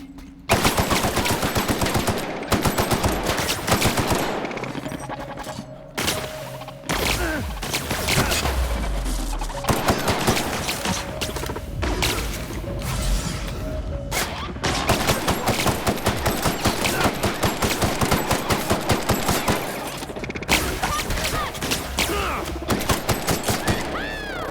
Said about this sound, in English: let's switch back to the assault rifle